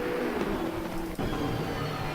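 Race car engines drone steadily during an overtake in the GT3 racing game Assetto Corsa Competizione at Kyalami, a sustained tonal whine with a brief dip partway through, moderately loud and with no talk.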